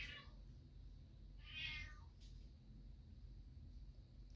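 An indoor cat lets out two short, faint meows over a quiet room hum, with a soft sound afterward and no talking.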